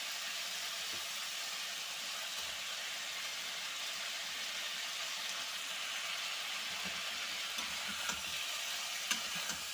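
Fried pointed gourd and rohu fish pieces stir-fry together in a pan, giving a continuous quiet hiss and sizzle with faint scraping now and then; no talking.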